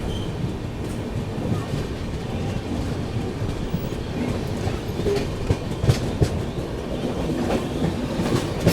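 Seemanchal Express rolling along the third line, a steady near rumble of wheels with clickety-clack beats and faint squeals, continuous and loud throughout.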